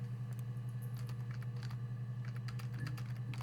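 Someone types a search query on a computer keyboard in the video game Her Story. Quick, light key clicks come in small bursts over a steady low hum, with no speech.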